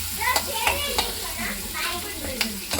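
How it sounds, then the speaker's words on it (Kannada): Onions and curry leaves fry in a pan for a mushroom pepper dry, giving a steady close sizzle with several sharp stirring clicks scattered throughout. "ಈರುಳ್ಳಿ ಈರುಳ್ಳಿ ಮತ್ತು ಕರಿಬೇವಿನ ಸೊಪ್ಪು ಹಾಕೊಂಡಿದ್ದಾರೆ. ಸೊ ಚೆನ್ನಾಗಿ ಫ್ರೈ ಆಗಬೇಕು"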